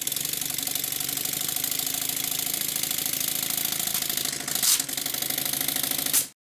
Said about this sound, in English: and then the engine ran much better.